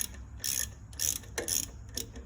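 Ratchet wrench snugging a valve adjuster on a Briggs & Stratton single-cylinder engine, several short close clicking bursts in quick succession.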